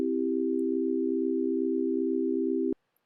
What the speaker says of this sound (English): now I'm using oscillators instead of the phaser, so we'll get just a pure sine wave for each pitch